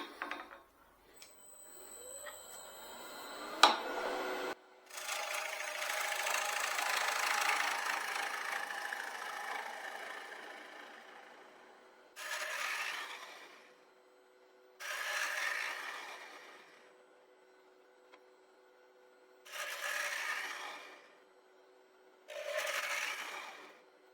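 A wood lathe turns the bottom of an ash bowl, a steady mid-pitched motor drone broken into several separate cutting passes of scraping noise with short gaps between them, close and even, with no speech.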